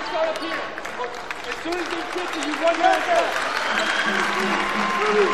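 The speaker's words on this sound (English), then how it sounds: "And a nice round of applause for John Mouton." A crowd applauds for a player at a men's college basketball game between Texas A&M-Kingsville and A&M-Commerce, clapping and cheering from the stands under an announcer's voice, building slightly toward the end.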